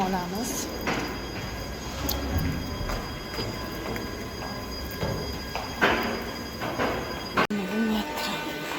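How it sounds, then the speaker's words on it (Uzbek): A metro train pulls into an underground station in Uzbekistan, a steady low rumble building with rail noise and a few sharp clanks, while people talk nearby. "Metro kelyapti."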